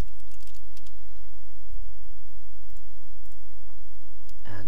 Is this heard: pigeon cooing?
no